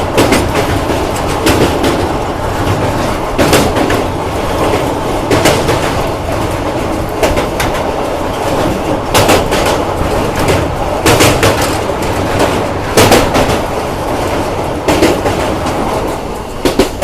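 India's first luxury heritage tourist train running on the Ahmedabad–Kevadia line, a loud steady rumble of wheels on rails with repeated clickety-clack beats from joints, continuous and close throughout.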